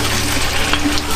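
Chicken adobo sizzles and fries steadily in a pan, a continuous loud crackling hiss with no talking.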